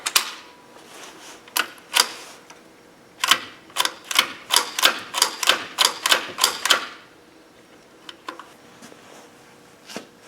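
The bolt of a Ruger 10/22 rifle is cycled by hand to extract rounds. Sharp metallic clacks come close and loud, a few spaced ones and then a quick run of a dozen, followed by a couple of fainter clicks.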